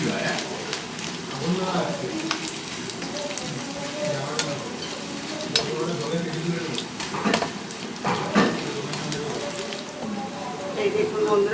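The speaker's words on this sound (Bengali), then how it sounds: "এই ফুলগুলোকে এই বেসনের ভেতরে ভালো করে মাখিয়ে নেব। নিয়ে এক একটা করে তেলে ছেড়ে দেব।" Banana flowers coated in gram flour batter sizzle and crackle steadily in hot oil, frying continuously in the foreground with occasional clinks of utensils.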